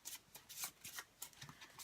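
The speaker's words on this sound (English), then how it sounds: "you shuffle the discard pile of the infection deck" Pandemic board game infection deck cards being shuffled by hand, a quick run of crisp riffling bursts close up over about two seconds.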